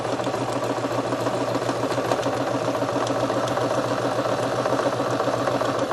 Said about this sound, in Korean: 그래서 이제 끝까지 쭉 돌아서 박음질 해주시면 됩니다.